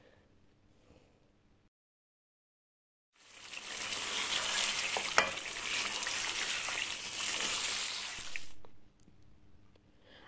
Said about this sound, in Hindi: अब इन सब चीज़ों को शामिल करके इसको मिक्स कर लेना है इसमें